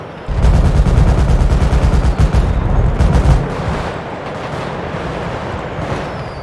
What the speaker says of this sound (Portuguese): É troca de tiro